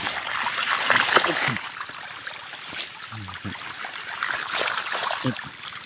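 A stream flows and trickles steadily outdoors beside rice fields with small splashes, while a voice speaks intermittently nearby.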